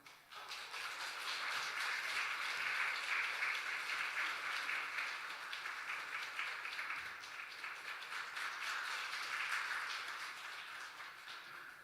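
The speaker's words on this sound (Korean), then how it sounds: "우리 전달할 때 큰 박수로 격려하도록 하겠습니다." A church congregation at a Sunday service gives sustained applause, an even wash of many hands clapping that holds steady for about twelve seconds and eases slightly near the end.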